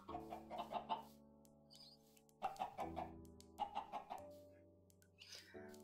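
Minecraft chickens cluck in short repeated bursts, several clusters of near, moderately loud clucks with pauses between, set against steady game background tones.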